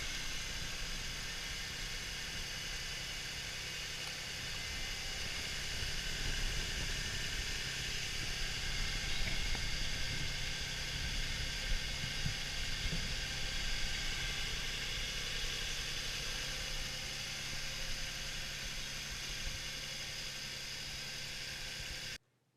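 A 2008 Ford Mustang convertible idles steadily after a cold start, a continuous engine hum with a faint whir and vibration, recorded close and unchanged for over twenty seconds with no talking.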